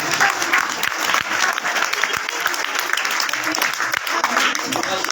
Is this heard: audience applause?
yes